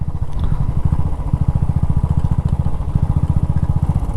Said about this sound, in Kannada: ನಮ್ಮ ಬೈಕ್ಗಳೆಲ್ಲ ಬಿಡ್ತಿದ್ದಾರೆ ಗುರು